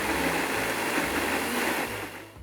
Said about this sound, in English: After you have the food processor well sealed, we go and we grind it